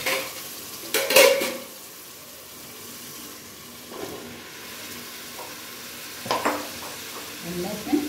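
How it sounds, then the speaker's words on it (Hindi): Potatoes and peas stirred and fried in a pan for matar pulao, with a soft steady sizzle and a few sharp scraping clinks of a spoon against the pan at intervals. "अब इसमें आलू और मटर डालूंगी"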